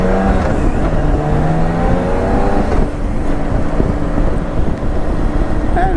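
A motorcycle rides through rain, its steady engine drone and wind roar filling the mix at close range, with the pitch shifting slightly as it moves along the road.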